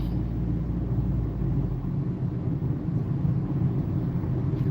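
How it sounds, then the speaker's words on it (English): Cars pass by on the road around a driving-lesson vehicle, a steady low rumble of traffic and engine noise heard from inside the car without pause. "Got a lot of cars going by."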